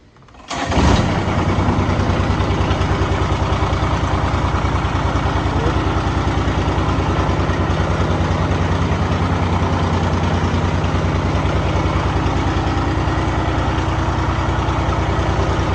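A Yamaha Big Bear 400 2WD ATV engine cranks and catches, then settles into a loud, steady, throbbing idle close by for the rest of the time.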